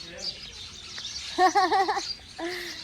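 Short bright bird chirps at dusk in a quick burst, a few calls close together over faint background noise, with a brief trailing call near the end.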